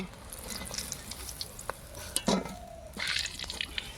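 Koftas sizzling in hot oil, a low crackle broken by sharp clicks and scrapes of a utensil stirring and turning them in the pan, close by.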